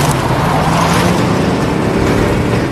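Cars roar through a film chase scene, a dense continuous rush of engine and road noise, loud and unbroken.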